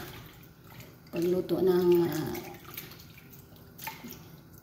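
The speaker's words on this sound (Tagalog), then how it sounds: "ilalaga sa maraming tubig" Water poured from a tap into a pot for boiling a whole chicken soup, a steady splashing gush that rises suddenly, holds for about a second, then fades into softer trickling while a voice speaks.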